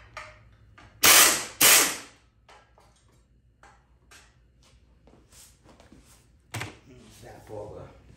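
A power ratchet removes bolts from the cover of a 2004 Troy-Bilt pressure washer, giving two loud close buzzing bursts followed by a shorter one, with quiet clicks and handling noises in between.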